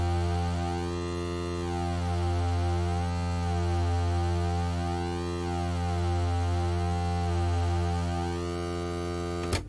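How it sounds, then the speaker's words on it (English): A synthesizer square wave holds one steady low pitch while its pulse width is swept slowly back and forth, the bright upper tone rising and falling in smooth repeating waves. It sounds alone, even and moderately loud throughout. "That was me changing what's called the pulse width, which is the width of that square wave"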